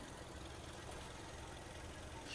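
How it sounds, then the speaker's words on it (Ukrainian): A Volkswagen Touran engine idles steadily with a low, even rumble and no other sounds over it. "Двигун працює чітко"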